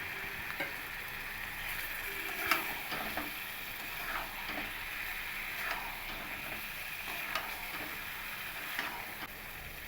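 Fried eggs and potatoes sautéed with spices in a pan for Bengali egg kalia, giving a steady close sizzle across the whole stretch with scattered light scrapes and stirring ticks, no talking.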